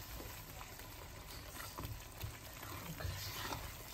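Mashed zucchini mixture fries in a pan over maximum heat, giving a faint, steady sizzle with soft crackles and the occasional scrape of stirring, with no voices.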